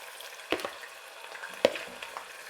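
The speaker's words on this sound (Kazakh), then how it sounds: "Майымыз қызған сияқты, майға мұндағы фаршты алып, салып," Minced meat meets hot oil in a pan, giving a soft, low sizzle broken by two sharp clacks of a utensil against the pan.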